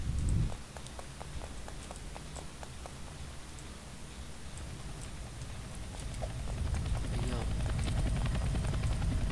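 A helicopter in the Roblox game Escape Prison Obby, its rotor giving a steady rhythmic chop that swells louder toward the end, with no talk over it.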